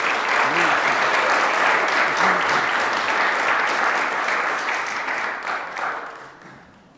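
A council meeting audience claps for the Creek Week winners in a dense, steady burst of applause that holds, then fades out over the last couple of seconds, with a voice briefly over it.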